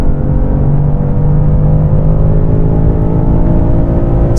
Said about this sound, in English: Launch control, going. Brutal launch.